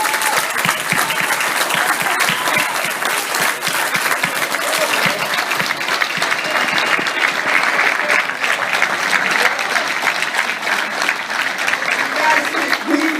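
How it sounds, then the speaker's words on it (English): A roomful of guests at the 2018 Atlantic City Boxing Hall of Fame event applauds in a sustained, dense, loud round of clapping that carries on steadily with a faint murmur of crowd underneath. "all of you to stand up so I can clap"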